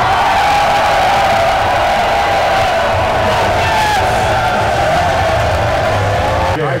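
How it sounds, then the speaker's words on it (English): A comedy show audience in a live-streamed club setting claps and cheers loudly and continuously, a dense roar of crowd noise with whoops and shouts throughout. "Clap it up for all the people around the world that can't be here."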